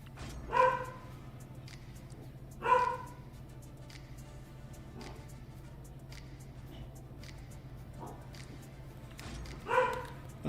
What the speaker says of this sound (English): Sorry, my dog is going crazy.